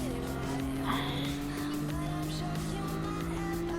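Nissan GT-R R34 drifting in Gran Turismo Sport, a sustained steady engine drone with faint tire squeal over a continuous loud mix, no voices over it.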